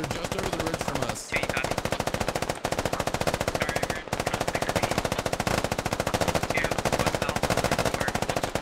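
Rapid bursts of AR rifle fire in a video game, loud and close, with dense rhythmic shots broken by a few brief pauses between bursts.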